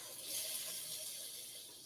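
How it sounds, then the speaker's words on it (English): Water is poured into a pot of gumbo as a brief, soft, steady trickle and splash, heard alone and at low level. "I'm just gonna pour this water in there."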